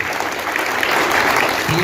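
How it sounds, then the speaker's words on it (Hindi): Loud, dense applause from an audience at a district pension convention in Giridih, a steady wash of many clapping hands filling the whole short moment. "मैं आपकी तरफ से चाहूंगा जोरदार तालियां उन लोगों के लिए"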